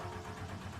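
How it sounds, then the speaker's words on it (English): DeLorean engine in the Gran Turismo 7 racing game, a low steady mid-pitched idle hum with a soft pulsing rhythm, alone with no talk. "The DeLorean already sounds that good and I've not even done anything to it."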